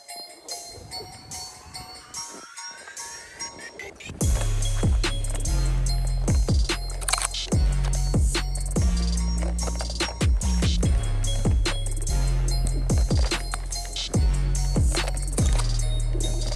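MTEN 4 mini electric unicycle riding a snowy trail, starting quiet and then jumping to a loud, steady motor whine and rumble with repeated thumps and rattles as it rolls over bumps, close to the rider.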